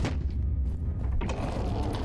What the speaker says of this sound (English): that opens the main door, but it doesn't open that door